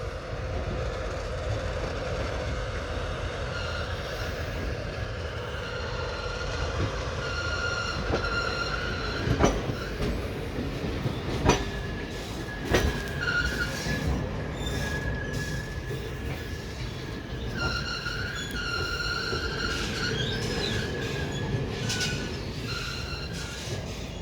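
The Chitrakoot Express creeps very slowly out of Katni Junction, its wheels squealing in long high drawn-out whines over a rolling rumble, with occasional sharp clacks and knocks from the cars.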